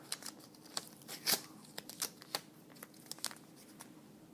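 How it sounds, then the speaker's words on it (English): Tape being pulled, torn and pressed down onto paper on a table, a quiet series of short crinkly rips and taps spaced irregularly, close by with no voices. "I'm going to tape it down"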